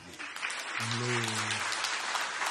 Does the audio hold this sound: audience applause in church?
yes